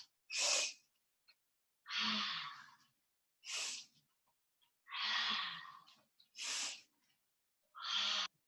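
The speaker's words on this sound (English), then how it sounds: "The breathing is a sniffing breath. So it's inhale and then another little sniff and then an exhale" Breath sounds from a person doing a seated breathing exercise: six separate audible breaths come in turn, alternating sharp sniffing inhales with longer airy exhales, close to the mic and separated by quiet gaps.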